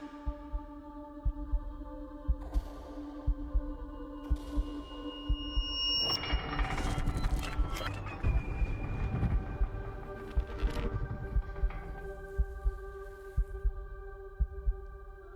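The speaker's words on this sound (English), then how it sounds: "Quite the heartbeat going on there." Heartbeat sound effect in a music video, a steady throbbing pulse that repeats at a regular rhythm over a sustained musical hum and tones, swelling louder midway with a denser wash of sound.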